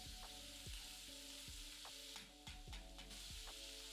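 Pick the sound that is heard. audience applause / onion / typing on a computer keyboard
onion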